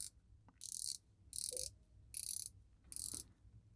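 A prototype Radcliffe Tsunami dive watch bezel turned by hand, giving four short bright bursts of ratcheting clicks at a steady pace, close and fairly faint, with quiet gaps between turns.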